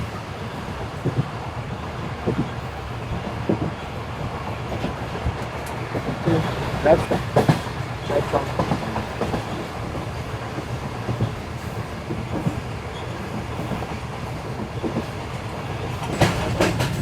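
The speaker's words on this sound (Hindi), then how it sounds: "ट्रैक साउंड आप सुन सकते हैं इस वक्त" Karakoram Express passenger train running on smooth track between Khairpur and Rohri, a steady rolling rumble with soft clickety-clack of the wheels throughout, heard from inside the carriage with faint background voices.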